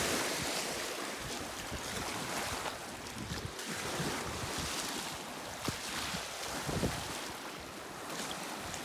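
Water surges through a rocky channel on the Lake Superior shore, a loud constant rushing wash with swelling surges and gusty wind buffeting the microphone. No voices are heard.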